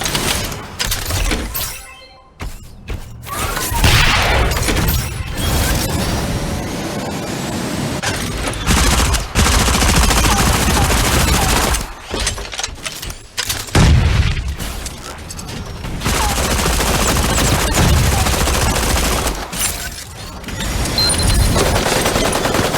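Gunfire and explosions in the mecha battle game Super Mecha Champions: dense, loud bursts of rapid shots and crashing impacts fill most of the stretch, broken by a few brief quieter gaps, with no talk.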